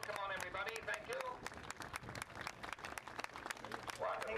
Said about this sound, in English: Did we give ourselves a big round of applause here to the club for putting this on?